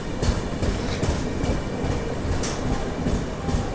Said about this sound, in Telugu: నెల్లూరుకి మన ట్రైన్ వచ్చేసి ప్లాట్ఫామ్ 2కి అయితే వచ్చింది